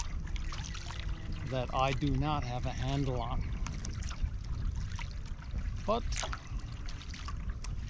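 Small boat running through choppy waves on Mahood Lake, with a steady wash of water and motor noise throughout and a person talking over it partway through.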